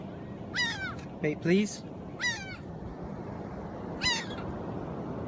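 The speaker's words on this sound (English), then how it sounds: "These are the seagulls down here." Seagulls calling outdoors near the water, four harsh, descending squawking cries spaced a second or so apart, fairly close over steady background noise, while a person speaks briefly among the calls.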